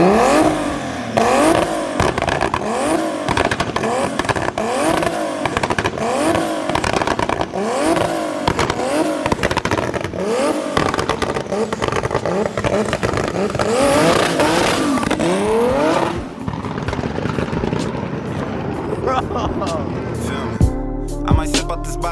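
A turbocharged BMW E46 M3 on a dyno screams through rapid repeated revs, loud and up close, before the engine note fades into clattering noise near the end.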